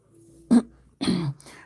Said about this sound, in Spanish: me tomé un agua fría y siento que me cayó mal para la garganta, me dio carraspera